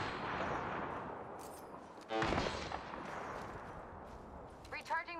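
Gunfire in the Apex Legends video game crackles beneath a player's steady talk, with a sharp loud burst midway and a quick rattle of shots near the end.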